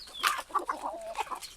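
Desi hens on a free-range poultry farm clucking in a quick run of short, close, fairly loud calls with no talk.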